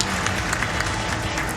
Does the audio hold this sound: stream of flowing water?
no